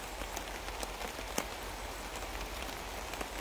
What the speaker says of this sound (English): you've got the rain on the top above you